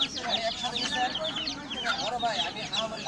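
Many all-black chickens cluck and squawk together at the crowded Fatullah bird market, with faint voices murmuring in the background.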